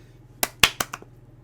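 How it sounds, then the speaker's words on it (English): A single sharp hand clap between parallel walls, followed by a quick train of four or five cracking repeats that fade in loudness over about half a second, alone in a quiet room. "a flutter echo, if you clap once, you're going to hear something like"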